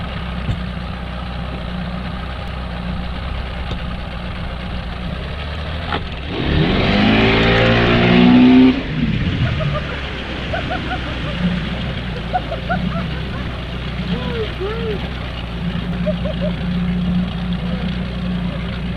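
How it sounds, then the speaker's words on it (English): A fishing boat's engine idles with a steady low drone, then is revved hard for a couple of seconds into a louder rising roar before settling back to idle, with faint talk and background noise. "I revved the engine, and watch what happens."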